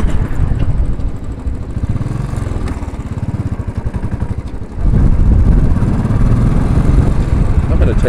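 A Royal Enfield motorcycle rides at night through Times Square in New York City: a steady, close single-cylinder thump with pulsing exhaust, swelling louder as the throttle opens partway through, amid city background.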